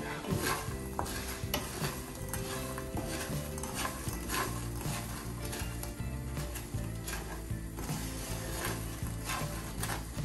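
Homemade hazelnut praliné is stirred in a pan, a busy close-up scraping and clattering with a constant low sizzle underneath and no voices.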